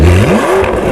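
Rebuilt McLaren engine revving up briefly, a rising tone sweeping upward within a second, loud and close, with no voices.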